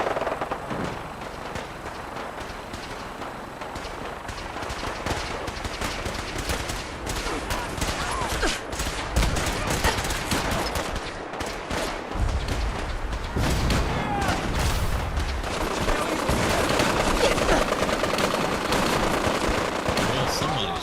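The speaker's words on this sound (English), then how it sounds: "Somebody is definitely shooting at me." Rapid bursts of gunfire in the Fallout 4 video game, dense crackling volleys that build and persist throughout, fairly loud and continuous with no voices over them.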